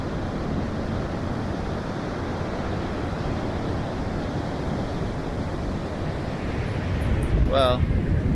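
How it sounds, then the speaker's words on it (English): Steady, heavy wind in Tulum, Mexico, roaring across the microphone, constant rumbling gusts with a brief higher whine near the end. "And it's windy."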